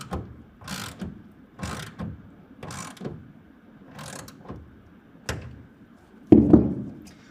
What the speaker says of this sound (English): wrench or ratchet and go ahead and get that snug down